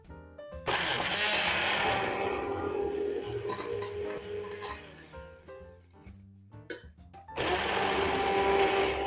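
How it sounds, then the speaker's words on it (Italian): A blender purees chickpea and shrimp soup, running loud and steady, then briefly stopping and sputtering before roaring back up at full speed, close up with no talking. "E adesso possiamo andare a frullare."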